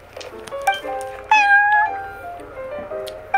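The cat Prince in Genshin Impact gives several close, loud meows, including one long drawn-out call in the middle, heard alone.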